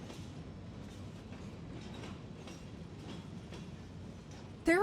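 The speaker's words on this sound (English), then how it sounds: "Train ASMR, but it's from the engine and it's loud as fuck." A train heard from near its engine, a loud steady rumble with rhythmic clickety-clack of wheels on rail, ending in a sudden sharp metallic squeal or horn-like tone.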